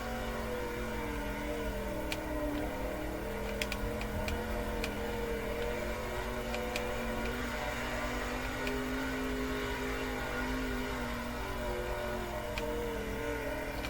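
A dirt race car lapping a loose, low-traction track in World of Outlaws '23, its engine a steady, fairly faint drone that holds through the lap with no talk.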